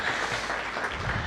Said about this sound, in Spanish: das un aplauso a Dios